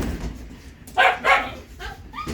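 Three-week-old husky-marked puppies give a few short, sharp yips and whimpering barks close by, in quick bursts with brief pauses between them.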